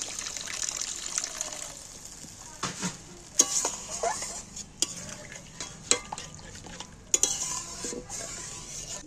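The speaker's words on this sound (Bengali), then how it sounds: "মশলাটা আমার ফুটে উঠেছে" Chilli fish masala bubbles and simmers in a pan with water added, a wet sputtering bed broken by several sharp clinks and scrapes of a spoon stirring, close and without talk.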